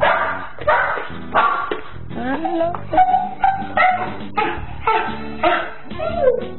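A pet dog in a Pinoy Big Brother house barks and yips in short irregular bursts, close and lively, with a voice speaking briefly between the barks.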